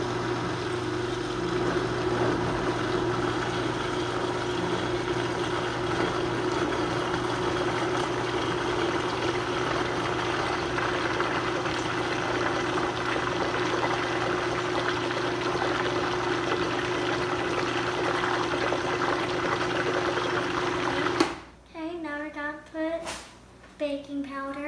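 A Vitamix blender running continuously while mixing vegan banana bread batter with coconut oil, a loud steady motor whine and churning for about twenty seconds before switching off, followed by some clatter.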